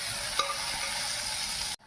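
Potatoes, eggplant and moringa flowers fry in a pan with a steady, close sizzle that runs evenly and then cuts off abruptly near the end.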